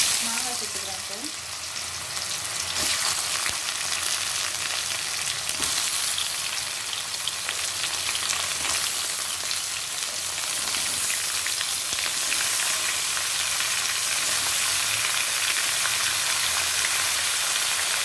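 Green mango pieces hitting hot oil with crackling curry leaves for maangai pachadi, a steady broadband sizzle that holds evenly for the whole stretch, close and fairly loud, with faint talk in the background.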